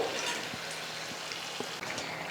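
Egg potato snacks coated in maida batter fry in hot oil with a steady, soft sizzle and a few faint spoon taps; no one speaks.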